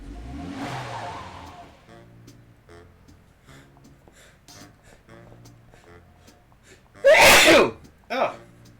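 A single loud, sharp sneeze bursts out near the end of a scene from the Sam & Max video game, followed by a shorter second burst, after quieter stretches of game sounds and low murmuring.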